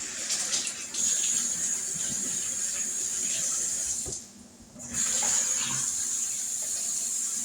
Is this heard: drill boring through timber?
no